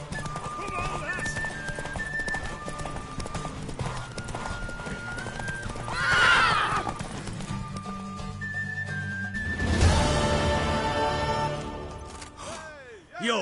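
Horse in a PS4 video game, galloping hooves clip-clopping steadily with a loud neigh or whinny, set among game music and spoken voices.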